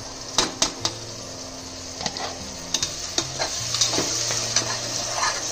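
Ground tomato paste sautéing in oil in a pan for corn biryani, a soft steady sizzle broken by several sharp clinks and scrapes of a spoon stirring against the metal.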